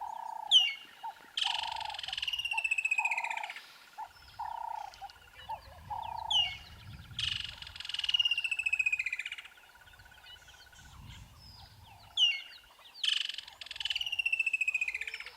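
Bright descending trills of a woodland kingfisher repeat in bursts, each a ringing run of notes falling in pitch, with a low steady whistled tone in the first seconds, likely a voice imitating the call.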